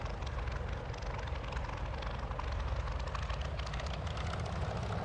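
A P-40F Warhawk fighter engine held at takeoff power in a flight simulator, a steady loud propeller roar with broad rumbling noise that stays constant throughout, with no talking.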